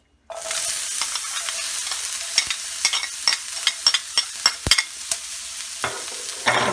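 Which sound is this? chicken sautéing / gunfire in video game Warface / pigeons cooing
chicken sautéing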